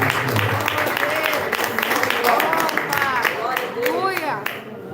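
Church congregation applauding during a Portuguese-language service, a steady wash of clapping that runs throughout, mixed with voices and speech over the top.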